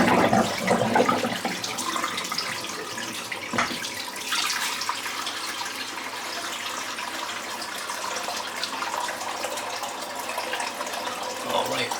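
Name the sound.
water running in bathroom sink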